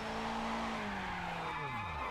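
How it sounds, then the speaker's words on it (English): A race car in the Project Motor Racing video game spins out, its tires squealing in a sustained, sliding screech with a falling pitch that carries loud and steady for about two seconds. "That was a very, very weird spin."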